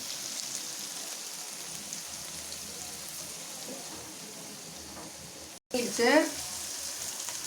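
Onions sautéing in a pan, a soft, steady sizzle with a brief break followed by a quick burst of stirring and scraping, then the gentle frying resumes.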